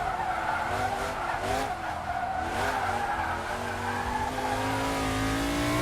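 A vintage race car in the Assetto Corsa racing game slides through corners, its tires squealing in long wavering wails over a steady engine note, with no talk.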